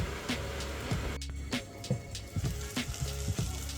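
Tomatoes sauté under a lid in a pan for Jaffna-style vada curry, giving a steady soft sizzle with a few small knocks and clicks, close by and fairly quiet.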